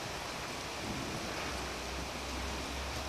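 Steady rain in the video game Minecraft, a dense, even hiss of falling water that holds at a constant level throughout, with a low rumble underneath.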